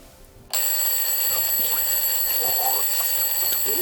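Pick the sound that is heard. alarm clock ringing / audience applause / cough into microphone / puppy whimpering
alarm clock ringing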